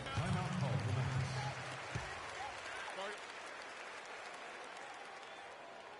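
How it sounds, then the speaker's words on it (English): Crowd applause fills an arena in the NBA 2K16 basketball video game during free throws. It is loud and steady at first, then eases into a softer crowd roar that continues to the end. "Give them a nice round of applause."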